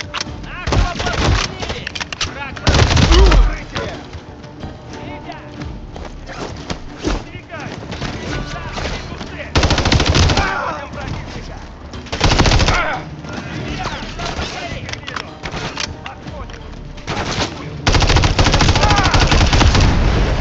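Call of Duty firefight with heavy automatic gunfire in repeated loud bursts, sustained volleys and scattered single shots, blended with game ambience and voices shouting.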